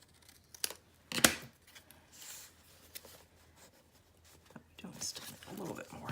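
Scissors snip through a junk journal page made from an altered book, a few close, crisp cuts with paper rustling between them and soft talk in the background.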